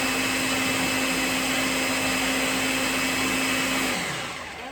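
A small blender making a moringa smoothie whirs loudly and steadily with a constant motor whine, then winds down and fades out in the last second.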